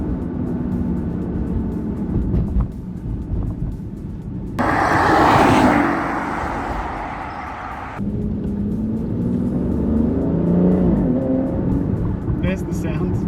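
An Aston Martin Rapide S with a V12 engine rumbles deeply, then flares into a louder, rasping rev for a few seconds before settling back to a low idle.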